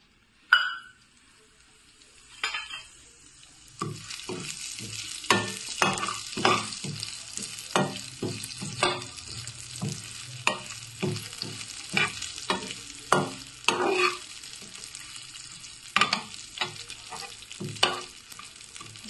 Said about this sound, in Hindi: तेल गरम है, मैं इसमें तिल को डालती हूँ।